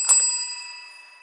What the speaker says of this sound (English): Now we will ring the bell